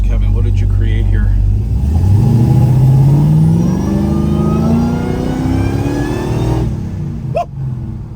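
A 1970 Plymouth GTX with a Hemi engine and 3-speed 727 manual revs loudly up from idle, the pitch climbing steadily and holding high before dropping back toward a rumbling idle, close and dominant.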